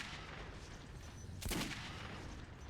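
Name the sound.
gunshot in video game Metro 2033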